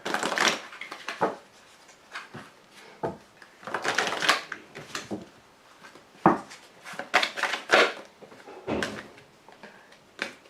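Tarot and oracle cards being shuffled and drawn, with irregular bursts of riffling and slapping card sounds close by, separated by brief pauses, no voices.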